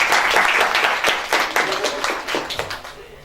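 An audience at an environmental education colloquium claps in a dense burst of applause that slowly thins and fades out over a few seconds.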